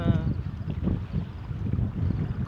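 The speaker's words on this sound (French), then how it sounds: "bruit des vagues" Waves roll in with a steady low wash and soft periodic surges of water, close and continuous, with a faint tonal hum early on and no clear voices.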